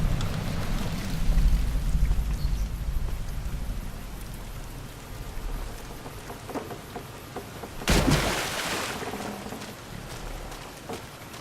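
Steady rain falling in the video game Fallout New Vegas, a dense, close hiss of drops on surfaces, with a sharp burst near the end like a distant shot or thunder crack before the downpour settles.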